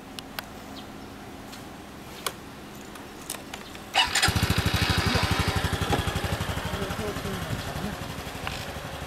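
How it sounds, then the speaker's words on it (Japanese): A Honda Cross Cub CC110 motorcycle in Hyogo Prefecture: a few faint clicks, then the engine fires up and settles into a steady, close, throbbing idle, with voices nearby. "エンジン聞かせて。"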